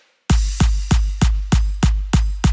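Booming electronic kick drums in a remix, eight heavy evenly spaced thumps with long low decay, loud and alone after a brief silence.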